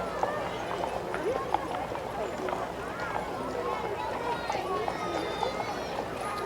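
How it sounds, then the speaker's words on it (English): Shetland ponies pulling a rider's cart in a Western-style frontier days parade, with hoof clip-clop running steadily under a continuous murmur of crowd voices and talk. "It looks like ponies pulling this thing that this guy's riding on. Shetland ponies."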